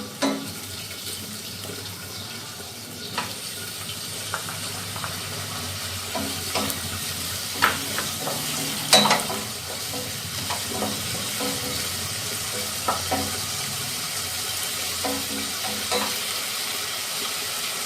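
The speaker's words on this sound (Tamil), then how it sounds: "வெங்காயம் நல்லா வதங்கிட்டு இப்போ வந்து தக்காளி சேர்த்துக்கலாம்." Onions and tomatoes sauté in a pan for brinjal kuzhambu, a moderate constant sizzle with frequent scraping and tapping of a spoon against the pan throughout.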